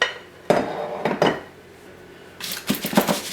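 A cake pan of fat-free chocolate batter is shaken to level it, giving a few short metallic rattles and clatters close by, then a busier run of clinks toward the end.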